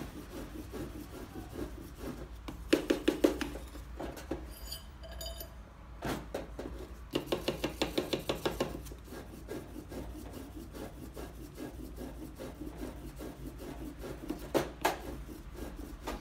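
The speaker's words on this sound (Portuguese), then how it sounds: "Isso daqui é uma lixa 800, é uma lixa um pouquinho mais fina." A sterling silver 925 wedding band sanded by hand with fine 800-grit sandpaper, a steady close scratchy rubbing with short rhythmic bursts of quicker strokes and faint metallic clinks.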